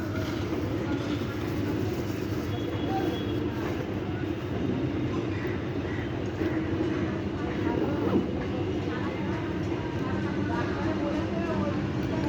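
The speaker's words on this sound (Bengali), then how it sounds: "যাচ্ছে ট্রেনটা, এখনো দাঁড়ায়নি।" A passenger train bound for Howrah rolls through a station without stopping, giving a steady, loud rumble of wheels and carriages that runs unbroken for the whole stretch, with faint voices in the background.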